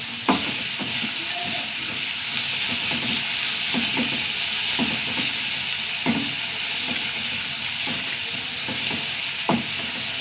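Curry leaves sizzle and crackle in hot oil with a steady frying hiss, dotted with sharp pops and occasional stirring clicks, close up and without talking.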